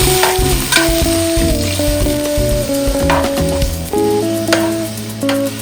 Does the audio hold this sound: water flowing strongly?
no